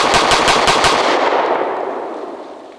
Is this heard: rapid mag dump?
yes